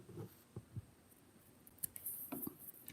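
Small scissors trim thread ends close to the stitching on a sewn tag, making a few faint, sharp snips spaced irregularly over quiet background noise.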